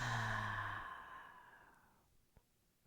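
One slow, deep exhale close to the mic during a calm breathing exercise. It starts as a soft, breathy tone and trails off to near silence over about two seconds.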